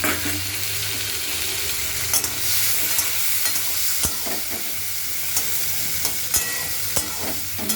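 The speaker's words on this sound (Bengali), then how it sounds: "মাছ ভাজার সময় সামান্য একটু নুন দিয়ে নিতে হয়" Fish sizzling steadily in hot oil in a wok, seasoned with a little salt and turmeric, a continuous close frying hiss with occasional sharper pops and crackles throughout.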